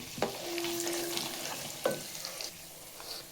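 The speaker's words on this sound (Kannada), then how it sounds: "ಒಂದು ಟೇಬಲ್ ಸ್ಪೂನ್ ಹಾಕುವಷ್ಟು ಕಡಲೆಬೇಳೆ ಸ್ವಲ್ಪ ಉದ್ದಿನ ಉದ್ದಿನಬೇಳೆ ಹಾಕಿ ಫ್ರೈ ಮಾಡಿ" Chana dal and urad dal frying in a pan for a South Indian rice dish, a close sizzle with spoon stirring and scraping and a couple of sharp clinks.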